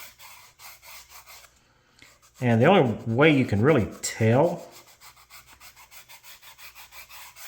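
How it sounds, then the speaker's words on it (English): Sandpaper rubs a wooden model sailing pram keel in quick, even strokes, close and steady, with someone talking briefly over it midway. "am going to keep sanding this until I get there."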